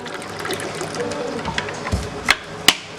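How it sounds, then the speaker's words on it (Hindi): Water from a cup poured into a cooking pan to make sugar syrup for semolina halwa, a soft close trickle and splash with a couple of sharp clinks near the end. "इसी तरह से मैंने दूसरा कप भी पानी ऐड किया इसमें।"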